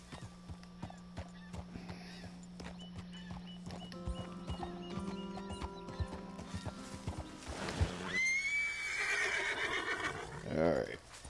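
Horse in Red Dead Redemption 2 clip-clopping along steadily, then letting out a loud, close whinny near the end, with a softer snort or neigh afterward; no speech over it.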